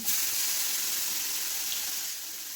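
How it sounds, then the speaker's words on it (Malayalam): A sudden loud hiss of water sprinkled onto a hot dosa griddle, bright and steady, fading slightly toward the end. "ഇനി ഇതിലേക്ക് കുറച്ച് വെള്ളം തളിച്ച്"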